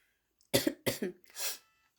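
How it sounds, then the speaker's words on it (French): Three quick, harsh coughs in a row, close and fairly loud, with short gaps between them and no talking. "J'arrête de tousser"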